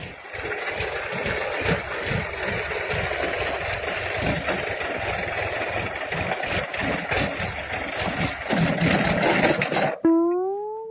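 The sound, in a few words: tractor engine running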